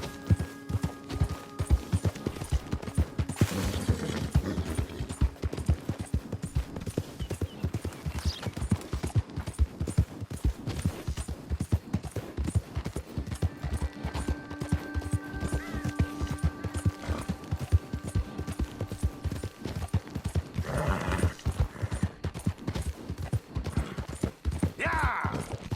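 Horse hooves clop and gallop in steady rhythm through Red Dead Redemption gameplay, loud and continuous for the whole stretch, with the occasional mechanical clatter and little talk.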